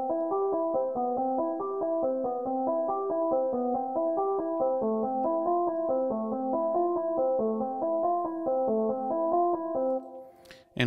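A MIDI part plays back from Ableton Live as a clean synthesized melodic line of evenly spaced notes over a steady low pulse, close and alone, ending in a brief click.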